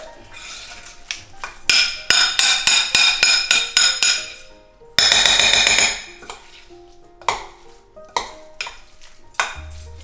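A spoon clatters and scrapes against a bowl while lasagna shrimp roll-up filling is stirred together with Parmesan, giving a run of quick, close, loud knocks that pauses and then comes back as sparser taps.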